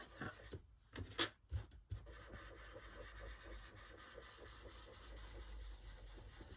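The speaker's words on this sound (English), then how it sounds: "Don't be frightened of sort of rubbing over all of these, just to soften that up a little bit" Pastel rubbed over paper to blend colours, a soft, faint, continuous scratchy rasp with a few sharper strokes near the start, heard alone.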